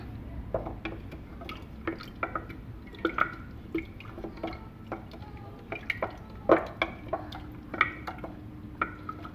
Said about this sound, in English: You can use your wooden spoon to stir it up.